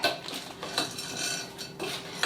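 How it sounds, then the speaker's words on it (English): Pecans are stirred into cookie dough for oatmeal triple chocolate cookies, a spoon scraping and clinking against the bowl in close, uneven strokes with brief pauses between them. "Stir this up."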